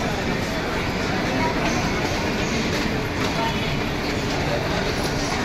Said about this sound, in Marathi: आणि ही मुंबईची लोकल.